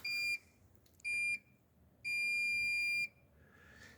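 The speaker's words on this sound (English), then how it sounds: "So when I push this, you can hear a series of beeps." Start button on a RaceGorilla photocell timing system beeping three times: two short electronic tones, then one long sustained tone. The beeps are clear and close, with a quiet background and no talk.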